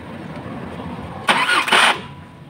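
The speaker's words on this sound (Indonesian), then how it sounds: "May sabit yung starter." Starter motor of an Isuzu 4HF1 diesel engine with a no-crank fault engaging in a short burst of about two pulses, a brief grinding whir that stops quickly after a quiet lead-in, close and fairly loud.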